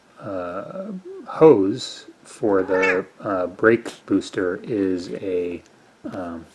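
A house cat meows repeatedly in a garage workshop during a Subaru brake booster and master cylinder swap, its cries tangled with close male speech about parts.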